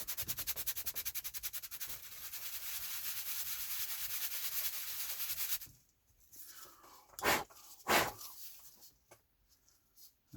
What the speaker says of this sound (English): We'll go ahead and just sand that down right there.